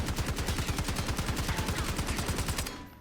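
Rapid automatic gunfire from the Model L rifle in the Black Ops 6 game, a steady loud burst of evenly spaced shots for over two seconds, then stopping abruptly with a short fading tail.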